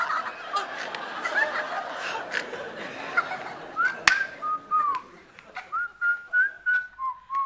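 A person whistles a short, wavering tune up close, breathy whistled notes rising and falling, ending in a run of steady pulsed tones.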